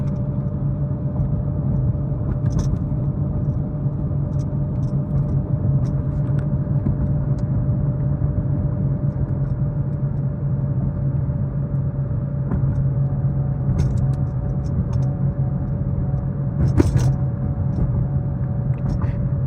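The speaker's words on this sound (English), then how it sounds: "Riding down a really bumpy road." A vehicle fitted with an RSA 10R80 transmission rolls down a very bumpy road, a constant low road rumble and drone from inside the cab with occasional knocks and rattles from the bumps.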